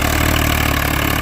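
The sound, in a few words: Swaraj 855 tractor engine idling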